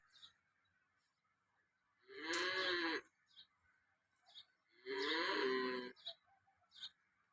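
A cow that calved four days ago moos twice, long and loud, close by, with faint bird chirps in the quiet between the calls, in Tharad, Banaskantha, Gujarat.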